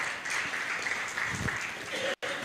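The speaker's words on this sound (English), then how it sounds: "Let's give him a round of applause." An audience at a dialogue event claps steadily in a continuous burst of applause, with a brief cut near the end before the clapping resumes.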